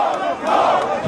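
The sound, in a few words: crowd going wild with emotion at Chief Abiola's funeral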